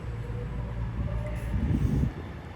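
A British Rail class 220 diesel multiple unit, 220 016, rumbles through Stafford station on the West Coast Main Line, a steady low engine drone that swells briefly near the end and then eases off.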